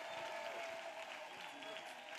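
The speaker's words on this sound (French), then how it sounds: "Clap offering to Jesus of Nazareth." A congregation claps in a clap offering during a prayer and intercession service, brief steady applause heard somewhat faintly with voices under it.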